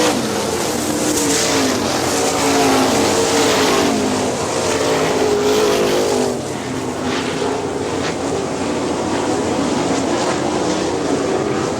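410 sprint cars roar around Hartford Speedway Park, a dirt oval in Michigan, with a continuous loud pack of engines droning and shifting pitch as the field circles the track, steady throughout with no voices.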